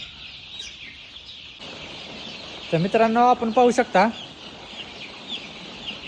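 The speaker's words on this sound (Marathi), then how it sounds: "सगळा पक्षी कसा ड्रिंकरवर पाणी पिण्यासाठी पडलेला आहे" Chickens crowding water drinkers cluck and squawk in a short, loud burst over a steady chorus of farm noise, with someone speaking nearby.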